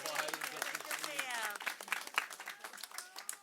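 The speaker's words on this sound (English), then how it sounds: "Give her a big round of applause" Audience applause for a guest introduced at a press conference on e-cigarette smoke-free policy, a dense patter of clapping mixed with indistinct voices, fading toward scattered claps.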